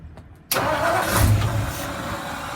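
A 1959 Ford F100's Y-block engine, a barn find unstarted for decades, cranks and catches abruptly after a brief quiet moment, then runs loud and rough, settling into a steady rumbling idle close by.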